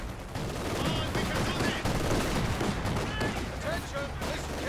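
Dense, continuous battle din in the video game Company of Heroes 2: a .50 cal machine gun under mortar fire, with overlapping gunfire and explosions forming a loud, unbroken wall of noise.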